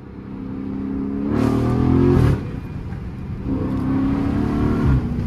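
A Dodge Charger Scat Pack revs loudly with a steady engine drone rising in two surges, exhaust pops crackling at the tops, heard close from inside the car.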